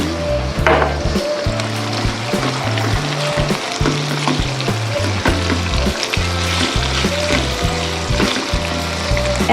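Wok sauce fries in a hot wok with a steady, close sizzle, joined by scraping and stirring clatter and a repetitive low rhythmic beat running throughout.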